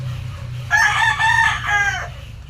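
A pet rooster on a small farm crows loudly and close by, a single long call with a break in it, over a steady low hum.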